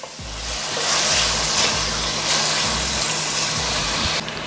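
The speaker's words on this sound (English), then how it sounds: "I'm gonna saute this for about 5 minutes." Callaloo and vegetables sautéing in a pan give a steady, close hiss and sizzle with faint low thumps recurring beneath, no voices.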